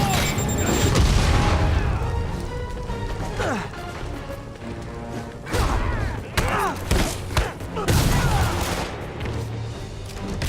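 A grenade blast in Marvel's Spider-Man lands amid loud booms, crashes and thuds of combat, with heavy impacts and swooshing effects layered densely throughout.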